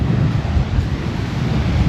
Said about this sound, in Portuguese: O mar está até um pouco revolto também.